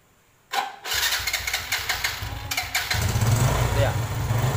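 A Honda Jupiter Z1 motorcycle, which has a battery-drain charging fault, cranks on its electric starter and then catches, settling into a close, steady idle with a rising engine rumble.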